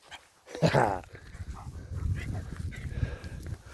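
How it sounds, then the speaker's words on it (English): Dogs playing together nearby, with a sharp bark, whimpers and scuffling growly noises in short bursts, moderately loud, with no talk. "I'm going to let the dogs play here"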